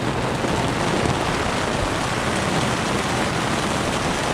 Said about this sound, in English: It is pouring rain in George Town.